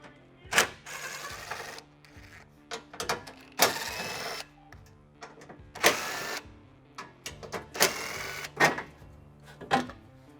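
Tool work removing 10mm bolts from a Toyota Tundra front bumper plate: bursts of ratcheting and whirring, about six short loud runs separated by quiet gaps, close up with no talk.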